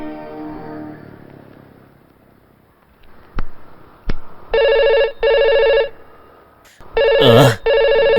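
A telephone rings in repeated double bursts of a bright electronic bell, loud and close, separated by short gaps in an otherwise quiet room, with a couple of sharp knocks before the rings begin.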